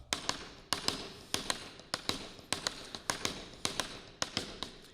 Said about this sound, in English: what if we accented all the single strokes? So single strokes loud, ghost notes quiet.